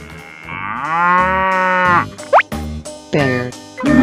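A cartoon cow gives one long, drawn-out moo, followed by a quick rising boing and shorter animated vocal calls, with bouncy music underneath.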